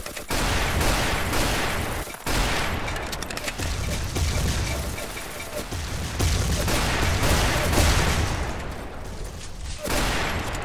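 Rapid SMG gunfire from the Build and Shoot video game, a dense, continuous stream of shots with short breaks, loud and close throughout.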